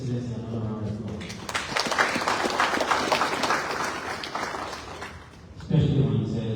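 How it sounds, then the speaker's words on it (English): A round of applause for the President at a ministerial committee program, a crowd clapping steadily for several seconds between bits of a speaker's voice at the start and end. "We will give Excellency another round of applause."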